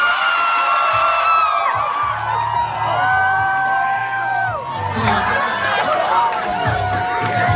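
A loud crowd of high school grad night partygoers cheers, whoops and shouts at a hypnotist show, a continuous, close, dense roar of many voices with rising excited yells throughout.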